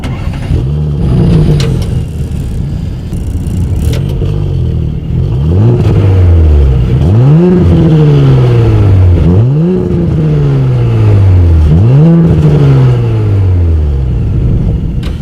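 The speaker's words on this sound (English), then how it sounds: "As always, here is that exhaust clip." A 2019 Audi S4 engine starts with a rumble, then settles into a series of about five rising-and-falling revs, each climbing sharply and dropping back, loud and close through the dual exhaust outlets with quad tips.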